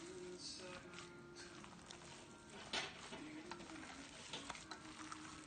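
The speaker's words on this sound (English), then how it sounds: "Gotta mix that all together." Food is stirred and mixed with Pecorino Romano cheese and Italian salt, with faint soft scraping, light clatter and a few small knocks under a quiet background hum.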